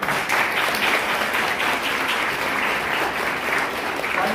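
A conference audience on women's entrepreneurship claps together in a loud, sustained burst of dense applause that holds steady throughout.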